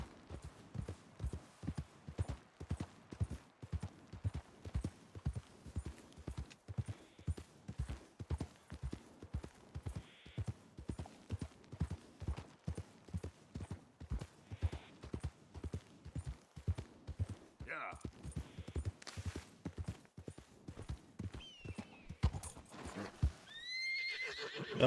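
Horse hooves gallop in a steady, rapid clip-clop rhythm throughout a Red Dead Redemption ride, with a few loud whinnies and neighs breaking through near the end.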